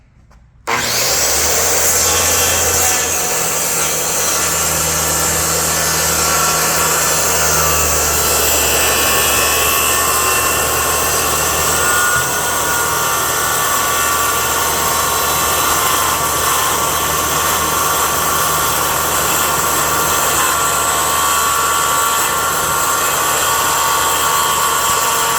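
A power saw cuts through an arcade cabinet side profile of wood, a loud continuous whine and rasp that starts abruptly and runs steadily throughout, close to the listener, with no speech.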